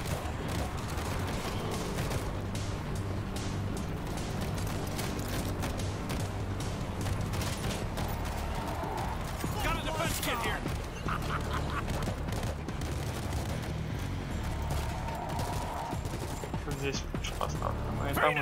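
Gunfire from the World War Z video game runs continuously, with rapid automatic bursts and sharp shots over a busy, dense game soundscape. Sound effects overlap the whole time and a voice can be heard speaking now and then.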